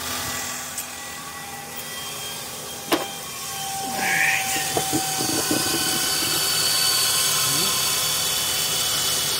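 A Kia or Hyundai car engine, just back from an oil cooler leak repair, cranks over after a sharp click and settles into a steady idle heard nearby for the rest of the clip.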